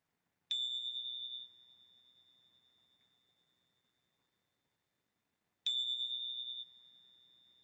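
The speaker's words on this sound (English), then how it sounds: "In a moment I will ring the bells." Meditation bells rung twice several seconds apart, each a clear, bright ring that fades slowly into near silence, heard alone in a quiet room.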